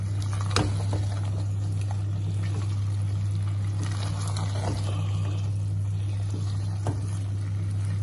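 Turnips and green chillies fry in oil for shalgam sabzi, giving a soft, steady bubbling with occasional sharper pops over a constant low hum.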